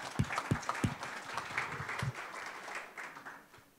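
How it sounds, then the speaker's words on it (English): A small crowd claps, with a few sharp individual claps at first, then scattered applause that fades out. "And yes, a round of applause."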